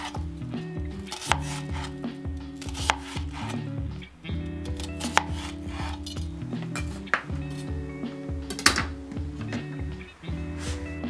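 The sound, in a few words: cutting onion into chunky pieces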